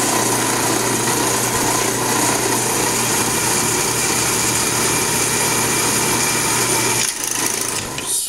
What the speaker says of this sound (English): So we got this nice drill press to make our holes.